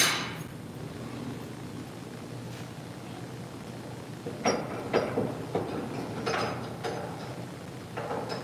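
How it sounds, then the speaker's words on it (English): Sheet metal being hammered into a raised panel with simple hand tools: a low steady drone first, then from midway a series of sharp metallic blows at irregular intervals, close and fairly loud. "you can do it with a hammer"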